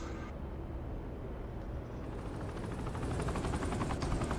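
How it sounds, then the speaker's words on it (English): A helicopter's rotor thumps steadily in the game Saints Row 3, a dense whirring drone that grows slightly louder toward the end, with no talking. "He took a helicopter."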